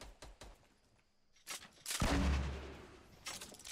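Gunshots ring out in the video game Fortnite, a few scattered sharp cracks followed by a heavier blast near the middle, fairly close, with no talking.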